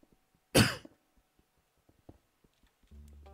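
During a Minecraft let's play, one sharp, loud cough bursts out early, followed by faint clicks and small noises and a low hum near the end.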